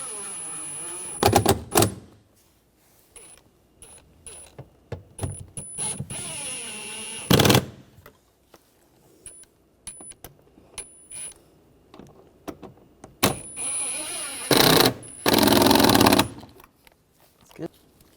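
Bolts on a rear window regulator of a 2009-2013 BMW 328i xDrive are snugged down in short, loud bursts of close mechanical clicking and whirring, separated by quieter handling noises.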